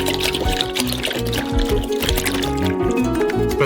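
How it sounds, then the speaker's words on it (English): Four liters of maximum-fat homemade milk pour into a saucepan, a steady close gurgling splash lasting several seconds under a layer of background music. "Pour 4 liters of the maximum fat milk into a saucepan."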